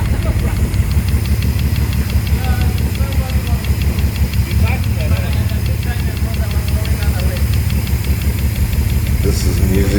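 A 1938 SS Jaguar 3½ litre drophead's engine runs steadily after its first start in over 50 years, a loud, continuous rhythmic idle with a ticking, knocking pulse and faint hiss, and a voice speaks over it.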